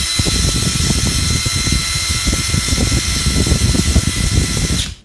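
A Mollar CIW20500 impact wrench runs loud and close, a steady high whine over rapid hammering rattle, then cuts off sharply at the end.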